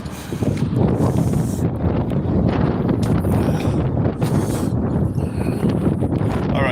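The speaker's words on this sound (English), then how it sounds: "A little windy today, not too bad." Heavy wind at a bus terminal buffets the microphone, a continuous loud low roar with gusty swells and no voices.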